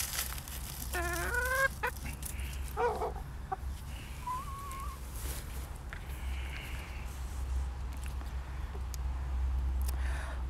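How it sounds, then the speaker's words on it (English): Backyard chickens cluck and give short bursts of call in a quiet outdoor setting, the sounds scattered, close and moderately soft over a steady low background hum. "Such happy little chickens."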